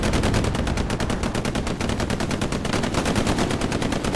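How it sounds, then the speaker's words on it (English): Rapid automatic gunfire rattles continuously in a Hell Let Loose WWII console match, dense and loud bursts with no clear rocket ricochet standing out, no voices over it. "One shell in. Ricochet rocket to the front."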